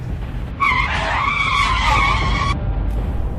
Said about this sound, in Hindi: बुल्ली एकदम ब्रेक लगाता है और सामने देखता है